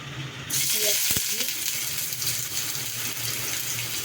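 Oil heating on a hot tawa for okra and small shrimp pakoras bursts into a loud, steady sizzle that continues as a close, dense frying hiss.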